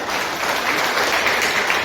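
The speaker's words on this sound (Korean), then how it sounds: "큰 박수 부탁드리겠습니다" A room of people at a political party candidates' meeting applauds, a dense, even clapping that stays loud throughout the short moment.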